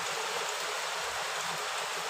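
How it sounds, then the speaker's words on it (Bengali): Fairly heavy rain falls in a constant broadband wash, an even and unbroken rushing sound without talk. "বেশ ভালোই জোরে বৃষ্টি হচ্ছে"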